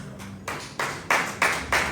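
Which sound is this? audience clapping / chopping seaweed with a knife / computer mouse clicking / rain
audience clapping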